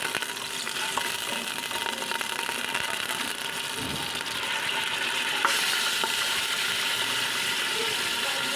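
Meat fries in butter or ghee with a soft, steady crackle and a few faint clicks and scrapes from stirring, fairly quiet throughout.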